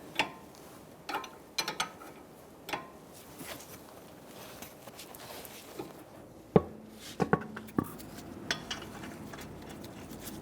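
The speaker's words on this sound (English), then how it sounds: "you're going to tighten them in a star-like pattern using a 19mm socket." A ratchet with a 19mm socket tightens the front wheel lug nuts on a 2000-2007 Ford Taurus, giving scattered clicking bursts and metallic clacks at close range, with no talking.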